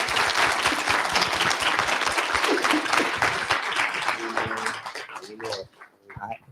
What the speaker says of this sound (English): please, let's give an applause to Dr. Dufresne.